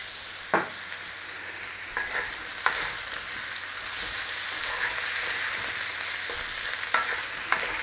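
Potatoes fry in a pan, giving a steady, close sizzle with occasional clinks and scrapes of stirring over several seconds, and no talking.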